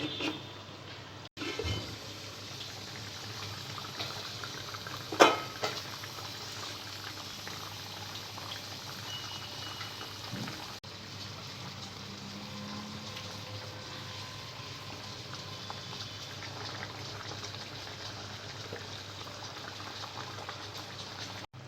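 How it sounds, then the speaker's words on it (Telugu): A covered pot of Andhra fish curry with drumstick pieces simmering steadily, a continuous soft bubbling and hiss close by, with one brief clink of the lid partway through. "చేప ముక్కలు వేసుకున్న తర్వాత మూత పెట్టి 5 నిమిషాల పాటు ఉడకనివ్వాలి."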